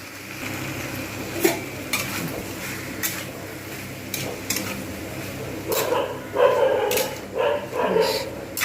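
A spatula scrapes and stirs a thick poppy seed paste in a pan in repeated strokes, with a faint sizzle underneath.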